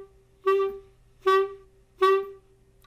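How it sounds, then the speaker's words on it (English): Three short, evenly spaced staccato notes from a sustained pitched instrument, each clipped off cleanly with silence between, played close and moderately loud. "Now, if we want to make that note short, super short and spaced, we are going to call that note staccato."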